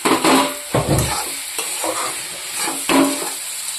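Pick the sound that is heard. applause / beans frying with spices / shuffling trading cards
beans frying with spices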